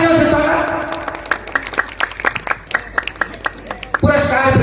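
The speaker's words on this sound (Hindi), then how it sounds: "तालियों से स्वागत।" Audience at a Ramlila committee award ceremony clapping to welcome a prize recipient, a burst of crisp individual claps in an uneven rhythm, framed by an announcer speaking before and after.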